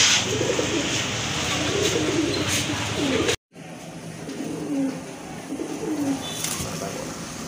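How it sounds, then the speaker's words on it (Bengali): A pair of orange chila pigeons coo repeatedly at close range in soft throaty phrases, with a brief silent gap partway through and faint background noise. "খুবই চমৎকার কোয়ালিটিফুল এক জোড়া চিলা কবুতর দেখতে পাচ্ছেন"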